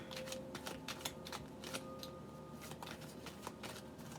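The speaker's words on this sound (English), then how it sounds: "These cards do not want to shuffle tonight." Tarot cards being shuffled give a faint, continuous patter of quick papery flicks and taps, close but very quiet, with no voice heard.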